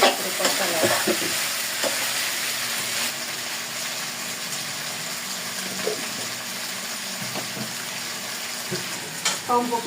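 Jackfruit and potato curry sautéing in a pan, a steady close sizzle with repeated scraping stirs and spoon knocks throughout, no voices.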